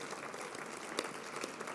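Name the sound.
audience applause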